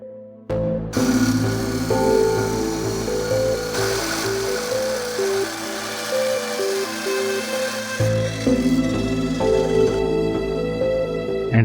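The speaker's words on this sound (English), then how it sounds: "here I am cutting thick pieces of metal from a metal strip" A power tool cuts thick pieces from a metal strip, giving a loud, steady grinding whine with shifting tonal pitches that runs almost continuously and changes character partway through, with no talk.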